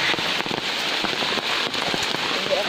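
Steady rain falling on a mountain trip in Batangas, a dense continuous hiss scattered with sharp close drop patters throughout.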